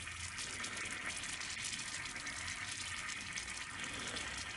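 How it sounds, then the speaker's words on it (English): Water boils over on a heat source, giving a continuous broad rushing, hissing bubble that stays steady and fairly loud throughout, with no voices. "it's taken just about 2 minutes to boil some water, and then we'll let that kind of just boil over"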